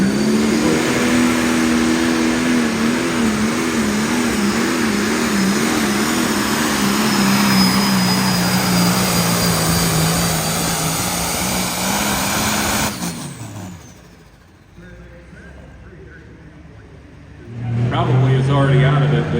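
A pulling tractor, a special edition machine at a county fair truck and tractor pull, roars loud and steady with a wavering rising engine note for about thirteen seconds, then drops away before a fresh engine surge near the end, with a commentator talking throughout.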